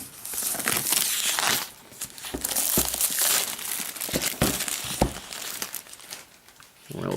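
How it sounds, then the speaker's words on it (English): Crinkly plastic wrap being torn and peeled off a new Apple MacBook Air, a near, continuous crackling and rustling with sharp tearing bursts and a few brief pauses. "let's go ahead and crack into this plastic here"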